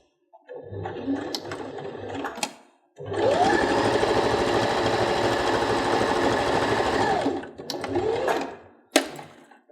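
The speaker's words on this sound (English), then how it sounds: "And then just run a straight stitch" A sewing machine runs a straight stitch along the edge of quilt blocks: short bursts at start and end around a steady, loud, close motor whir of about four seconds, with no talking.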